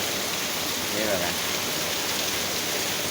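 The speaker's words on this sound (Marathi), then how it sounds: "पाऊस खूप आहे" Heavy monsoon rain falls steadily in a village, a loud continuous hiss and patter of drops on surfaces, with a brief spoken remark over it.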